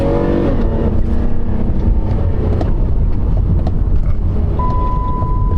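Chrysler 200 sedan accelerating hard up a highway on-ramp while the engine runs hot: a loud, steady engine roar with wind and road noise throughout, and a thin steady whine near the end.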